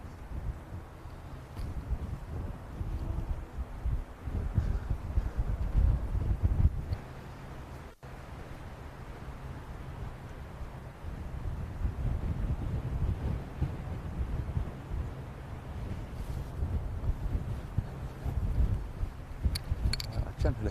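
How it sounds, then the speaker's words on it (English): Strong, gusty wind buffets the microphone on an open golf course at Moortown during a cold spell in a professional tournament, a steady low roar rising and falling for the whole stretch. "It is incredibly windy all of a sudden"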